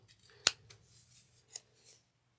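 Scissors snip through fabric pattern pieces for a box bag: one sharp, loud close cut followed by a softer second snip, with faint rustling of fabric and near silence between.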